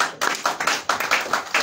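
Church congregation in Ebolowa, Cameroon, claps in steady rhythmic unison, about eight sharp close claps in quick succession with no voices over them.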